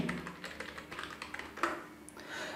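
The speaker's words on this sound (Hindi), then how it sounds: "मैं यहाँ पे मोबाइल नंबर टाइप कर लेता हूँ" Fingers type a mobile number on a computer keyboard: a quick, quiet run of light, irregular key clicks with one slightly sharper tap, close and alone without speech.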